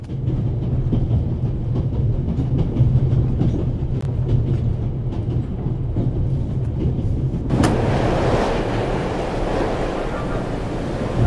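A train rumbles steadily along the rails in a video game set in Switzerland, a loud continuous low clatter and roar that brightens into a harsher hiss near the end.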